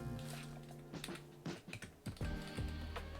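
Someone types on a computer keyboard in a run of quiet, uneven key clacks, close up, over a faint background hum.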